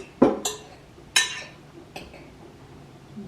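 Spaghetti is mixed with olive relish in a dish, heard as four sharp, separate clinks of a utensil against the dish with quiet pauses between them.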